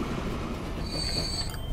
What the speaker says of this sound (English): There's our new train